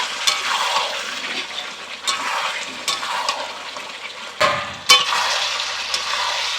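Chicken stirred in a covered pan as it fries down for a meat dish with fresh Malabar spinach stems, giving a steady close sizzle with a few sharp scrapes and clatters near the middle.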